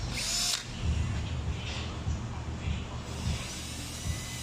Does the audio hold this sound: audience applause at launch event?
no